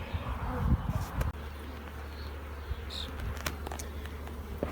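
Honeybees buzz steadily at an opened hive while a swarm is split off into a smaller box, the hum close and continuous throughout.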